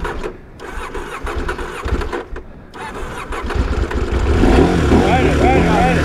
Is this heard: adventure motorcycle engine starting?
yes